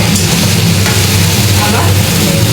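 Mango pickle, with the mango already fried in oil, is stirred together with sugar and salt in a pan, giving a loud, close, continuous sizzle and scraping without speech.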